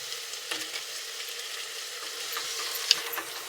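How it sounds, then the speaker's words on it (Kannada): Pulao frying in a pan as garam masala goes in, a steady soft sizzle with a few faint stirring scrapes and one brief clink, no voices. "ಆ ಕಡೆ ಪೆಟ್ಟು ನೋಡು, ಗರಂ ಮಸಾಲ ಹಾಕ್ತಾ ಇದ್ದಾರೆ"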